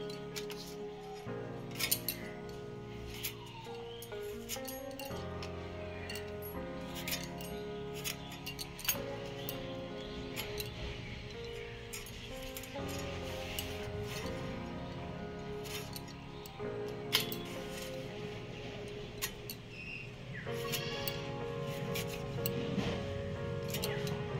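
Cauliflower stalks are cut with a blade in a home kitchen, faint repeated crisp snips and scraping clicks spread unevenly across the whole stretch, with little else heard.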